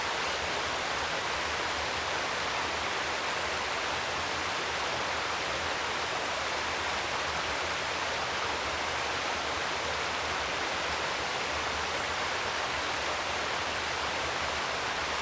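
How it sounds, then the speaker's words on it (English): Cool running water under a sprawling beech tree, a constant broadband rush like a stream or small waterfall, steady and even throughout with no other sounds. "How does the sound of cool running water"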